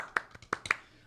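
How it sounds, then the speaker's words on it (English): A handful of light, sparse hand claps, soft and close, spaced unevenly over about a second. "Golf clap."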